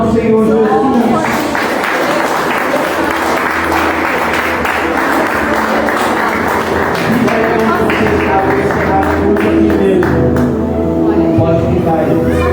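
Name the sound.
congregation applauding the Lord Jesus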